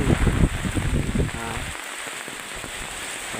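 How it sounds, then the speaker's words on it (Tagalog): Heavy typhoon rain pours steadily with gusty wind roaring over it in Masbate Province, loudest at the start then settling into a constant wash of noise. "Sobrang lakas talaga ng hangin dito at ulan."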